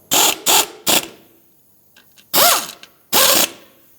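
Ratchet tightening engine mount nuts on a 2012-2020 Ford Focus, heard as three quick close clicking bursts, a pause with faint small taps, then two more longer ratcheting strokes, no talking.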